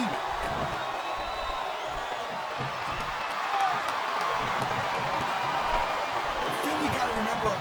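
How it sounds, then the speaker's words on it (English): A wrestling arena crowd in WWE SmackDown vs Raw 2007, during an Undertaker vs Randy Orton Hell in a Cell match, sends up a steady, dense roar that holds at an even level, sounding somewhat distant and washed out. "listen to that chant, Taz."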